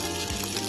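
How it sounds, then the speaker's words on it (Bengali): Cauliflower pieces fry in oil in a kadai, giving a brief steady sizzle and hiss heard close up, with no talking. "ফুলকপির টুকরোগুলো খুব সুন্দর করে লাল করে ভেজে নিয়েছি,"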